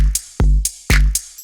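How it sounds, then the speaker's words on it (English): A wet, reverb-rich hi-hat sample layered with a kick and clap in a music production loop, repeating loud, punchy hits with bright sizzling tails roughly every half second. "and then a wet hi-hat"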